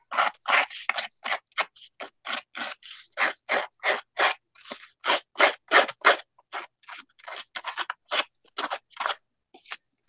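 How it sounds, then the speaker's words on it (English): Paper being cut with scissors and handled during a paper-crafting session for an altered book, heard as a steady series of crisp, close snips and rustles with brief gaps between them and no talking. "So yummy paper noises."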